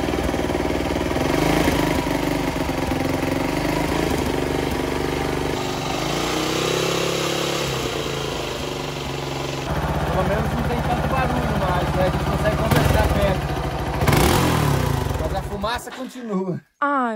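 A Honda NX200 motorcycle engine runs close by, idling unevenly with rises in revs, voices talking over it, before sputtering and stalling at the end.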